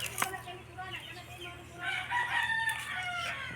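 A rooster crows at moderate distance, its drawn-out call rising and falling near the end, with faint clucking and a low hum beneath.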